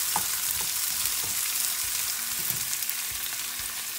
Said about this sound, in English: Now I am going to add my beans. I'm going to cook the beans